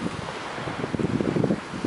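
Water waves washing at the shore, a continuous rough rush of surf mixed with heavy wind buffeting the microphone, no talking.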